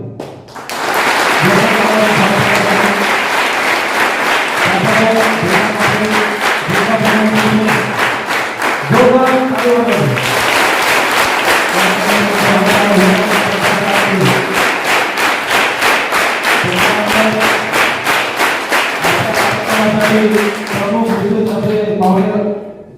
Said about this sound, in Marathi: त्यांचं जोरदार टाळ्या स्वागत